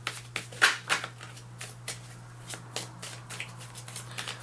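Tarot cards being shuffled by hand during a reading, a run of soft riffling flicks and taps spaced irregularly over a few seconds, close and fairly quiet over a steady low electrical hum.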